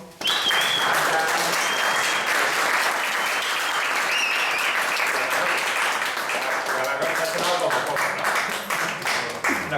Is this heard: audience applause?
yes